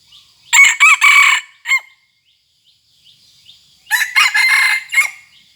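A gamecock crows twice in close succession, loud and near, each call a harsh rising-falling cock-a-doodle-doo with a short gap of quiet between them and no talk.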